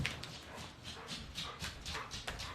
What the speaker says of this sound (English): The dogs are getting restless, guys, if you're hearing them in the background.